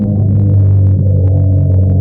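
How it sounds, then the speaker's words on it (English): A loud car engine throbs steadily up close as it passes, a low rumbling hum that holds for a couple of seconds without any voices. "I hate cars with loud engines."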